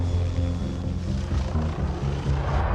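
Helicopter flying low around trees, a steady loud rotor and engine drone with rhythmic blade chop holding close throughout, no voices.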